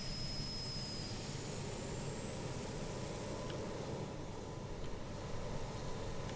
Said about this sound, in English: You can hear the APU starting.